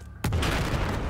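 A C4 charge detonates in Battlefield 4 with a sudden, loud, booming blast after a moment of low rumble. The deep explosion rolls on and fills the rest of the moment.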